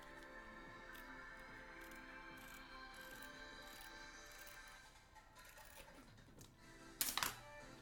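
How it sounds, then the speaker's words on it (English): Soft, steady clicking of typing on a custom Daisy mechanical keyboard with shelf liner added, with milky yellow switches and cream keycaps, quiet and even, ending in a louder clack. "Round 2 typing test, yes."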